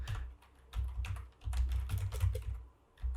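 Close typing on a computer keyboard, a quick run of key clicks in short bursts with brief pauses, alone without talking.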